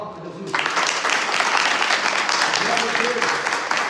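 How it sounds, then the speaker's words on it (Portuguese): A church congregation bursts into applause for Jesus after a brief quiet opening, then keeps up dense, steady clapping at close range. Faint voices and cheers may be mixed in. "Dá uma salva de palmas para Jesus"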